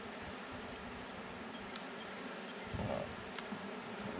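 Honey bees buzz around an open beehive on Kangaroo Island, a dense, steady drone of many insects close by with occasional louder passes near the listener.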